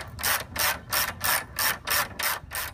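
Socket wrench ratchet with a 9/16 socket turning bolts on a Laser Kitty Hawk trailer frame during assembly, a steady run of about seven rapid clicking bursts in even rhythm, close and clear with no talking.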